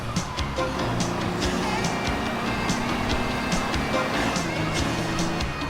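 Engine drone and tire noise from car racing in GTA Vice City, a steady, busy mix of motor hum and repeated sharp ticks running throughout without any talk.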